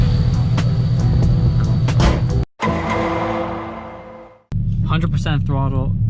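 A supercharged Subaru BRZ on a street tune pulls at full throttle, its engine roaring loud and steady, breaking off for a gear change, winding down, then surging again as a voice speaks over it.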